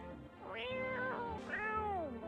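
A cat in the video game No, I'm not a human meows clearly three times, close and loud, each cry a drawn-out, wavering call with no talking.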